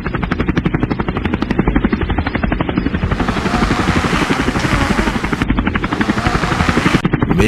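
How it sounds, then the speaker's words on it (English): A helicopter approaches in the NARQUBIS game, its steady rotor chop loud and continuous, the whine and wash building and brightening as it nears. "Chopper is incoming."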